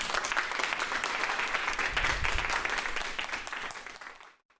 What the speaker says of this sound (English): Please give yourself all a superhuman round of applause.